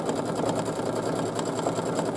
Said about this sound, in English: the machine is going to take off and do the first part of this pattern